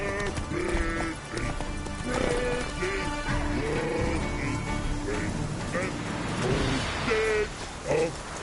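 Hooves clip-clop at a rapid pace as a horse gallops in a video game, set at a Redanian army camp, with game music, whinnying and voices talking over the running.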